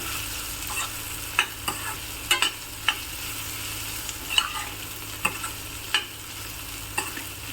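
Spine gourd frying in oil for a traditional Malenadu village-style dish: a steady background sizzle broken by sharp, irregular clicks and scrapes of stirring, fairly quiet and close.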